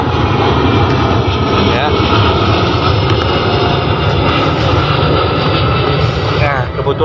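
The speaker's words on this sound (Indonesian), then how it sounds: "Nah, kebetulan pesawat lewat. Dia agak ribut, nggak apa-apa ya." An airplane passing overhead outdoors in a vegetable garden, a loud continuous roaring engine drone filling the whole stretch, with a brief spoken word over it.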